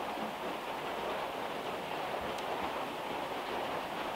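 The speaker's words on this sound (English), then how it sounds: "while it was raining." Steady rain falling outside a shed, a constant soft hiss of broadband patter filling the whole clip with no talk.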